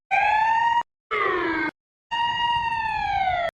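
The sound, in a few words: ambulance siren approaching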